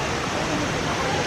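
Waterfall in Spain roaring as dense, continuous broadband rushing water, loud and close, filling the whole moment with no pause.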